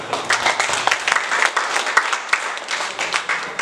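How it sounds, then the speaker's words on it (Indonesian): An audience at a Christmas interfaith gathering claps in warm applause, a dense, steady patter of many hands rising and falling slightly, loud and without speech. "tepuk tangan dulu"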